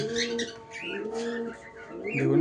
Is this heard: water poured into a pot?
no